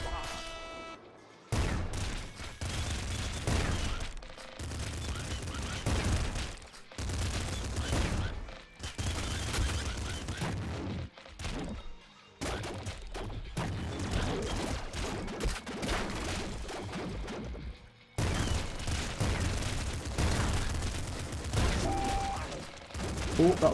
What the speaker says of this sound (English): Do a few shots here and there on those guys.